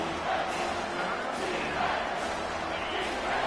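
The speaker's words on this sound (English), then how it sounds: "The crowd getting behind this defense as they try to get a stop in the red zone" A football stadium crowd roars steadily behind the defense during a red-zone stand, a dense, continuous wall of cheering that holds loud and even throughout.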